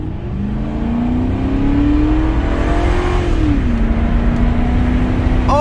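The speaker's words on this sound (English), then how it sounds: "Second gear is gonna pull hard." Lincoln Town Car pulling hard in second gear, a loud steady engine drone rising in pitch, then dropping briefly as it settles, heard close and continuously from inside the car.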